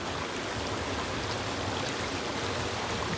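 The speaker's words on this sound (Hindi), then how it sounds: "फिर से एक नदी, जिस नदी को क्रॉस करना है" Steady, loud rush of a river flowing near a broken bridge crossing, a dense continuous roar of water with no pauses and no voices.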